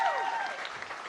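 Brief applause from a small audience at a live fan event in London, a soft, short patter of clapping.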